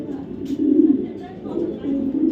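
A racing pigeon, a cock bird with five club races flown, coos in low, rolling phrases close by, with a voice speaking over parts of it.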